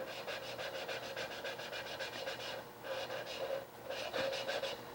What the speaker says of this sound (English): the valve lapping compound itself is an abrasive, and what it's doing is it's removing a minute amount of metal